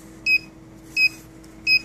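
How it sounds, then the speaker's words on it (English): An SRP-275II receipt printer that has run out of paper sounds three short, evenly spaced electronic beeps at a steady rhythm, close and clear against a quiet background. "whenever it runs out of paper, it starts beeping"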